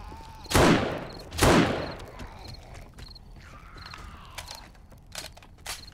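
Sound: gunfire shooting a zombie in the video game 7 Days to Die

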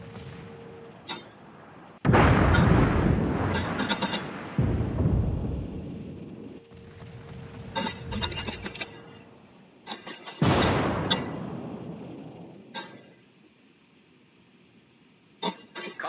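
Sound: naval artillery fire in the video game World of Warships

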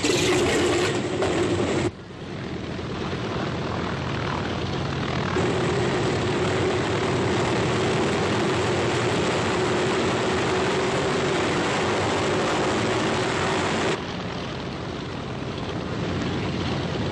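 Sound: propeller transport aircraft flying

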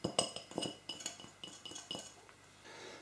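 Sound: stirring salmon bake mixture with spoon in dish

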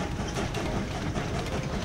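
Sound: train arriving at base in Train Valley video game

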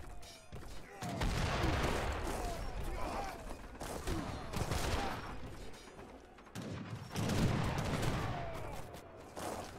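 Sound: gunfire in video game Age of Empires III

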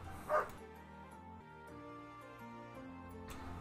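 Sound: dog barking

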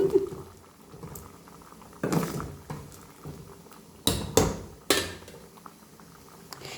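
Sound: stew boiling in pot

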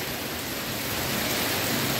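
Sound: hailstorm with heavy rain

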